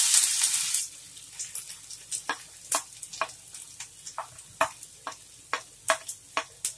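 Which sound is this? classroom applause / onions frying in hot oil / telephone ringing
onions frying in hot oil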